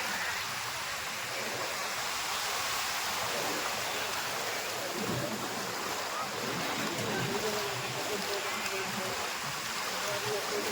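Water streams steadily out at a Gopnath Mahadev temple during the Jal Jhili Agiyaras festival, a continuous broad rushing wash that holds at an even level throughout, with faint murmurs in the background.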